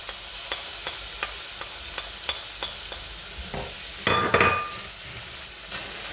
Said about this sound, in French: Et je vais mélanger le tout.